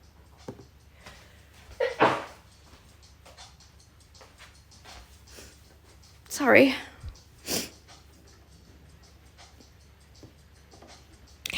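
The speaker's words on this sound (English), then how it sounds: "Oh no, I've got to sneeze." A single muffled sneeze midway, short and sharp, amid quiet room noise with a few soft spoken words before it.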